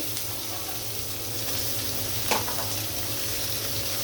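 Chopped onion, with bitter gourd, frying in hot oil gives a continuous close sizzle and crackle at an even level, with a brief stirring scrape midway.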